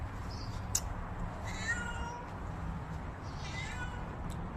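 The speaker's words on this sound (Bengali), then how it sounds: "ওর গন্ধ শুকিয়ে চলে এসছে ম্যাও মা করতে করতে।" A cat meows a few times as it comes over to eat cat food, the calls clear but not close, over a steady low background hum.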